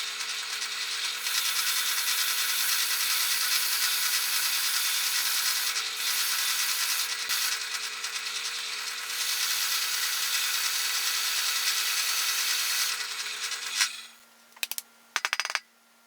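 Forstner bit drilling into a cedar log for a birdhouse, a continuous bright, gritty cutting whir under a steady motor hum that stops near the end, followed by a few short scraping bursts.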